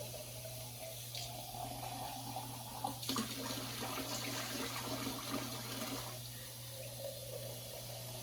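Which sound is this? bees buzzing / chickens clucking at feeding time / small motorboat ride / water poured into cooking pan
water poured into cooking pan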